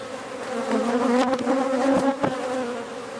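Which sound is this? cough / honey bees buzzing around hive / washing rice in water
honey bees buzzing around hive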